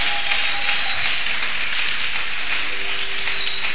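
Congregation applauding inside a church, a dense, steady wash of many hands clapping at once, loud and continuous throughout with no voices standing out.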